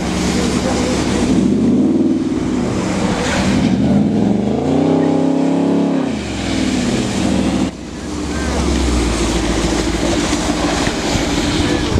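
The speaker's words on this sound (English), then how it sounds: "Oh, he's spinning around me." A car spinning donuts close around a bystander, its engine roaring and revving in sweeping rises and falls that keep going loud and steady, with a short dip partway through.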